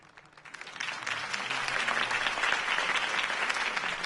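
A crowd in the Batman Telltale game bursts into applause after a political campaign speech, the clapping building over the first second into a steady, dense roar that holds loudly until the end.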